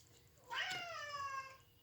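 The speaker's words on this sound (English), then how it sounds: "You're hearing my cat meowing in the background." A cat gives one drawn-out, rising-then-falling meow from somewhere in the room, fairly soft and alone, with no talking over it.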